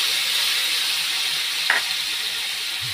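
A paste of tomato, chilli and garlic with turmeric sizzles in a pan, a steady loud hiss with a brief stir scrape near the middle.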